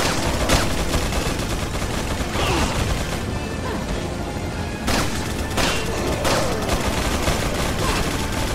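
Enemy gunfire at a fort in Resident Evil 4, dense and loud throughout, with several sharper shot cracks standing out among the steady rumble of combat.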